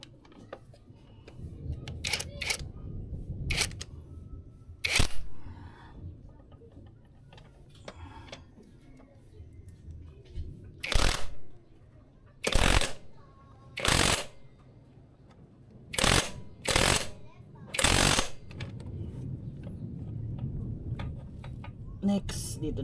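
Tools ratchet and click while the monoshock nut on a Yamaha Sniper 155R is tightened, in sharp repeated bursts separated by pauses, with a person talking intermittently in between.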